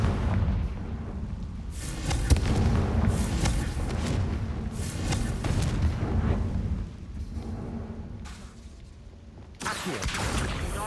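Confringo fire spell blasts in the Hogwarts Legacy video game: a run of loud, booming explosive bursts crowding one another, with short gaps between volleys, close and dense.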